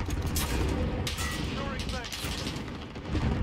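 Gunfire in the shooter game Call of Duty Modern Warfare, including an FR rifle: a dense, loud stretch of shots and bursts with booming impacts, continuous throughout with sharper cracks scattered across.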